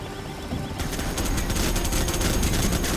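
Machine-gun fire in Command & Conquer Generals Zero Hour: after a brief lead-in, a dense, continuous fusillade of rapid shots starts and holds loud and steady to the end, with game battle noise underneath.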